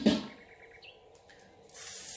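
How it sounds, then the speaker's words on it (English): A short hiss of cooking oil spray onto a grill bursts out, followed by quieter sputtering and another hissing spray near the end, close up and fairly faint. "First I will spray some oil on the grill."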